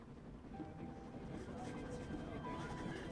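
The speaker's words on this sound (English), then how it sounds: "I'm on a train heading out of Germany, where I write to you now." Train journey ambience from the video game 11-11 Memories Retold: a steady low rumble of a moving train carriage with faint tonal hums and rattles, continuous and moderately quiet throughout.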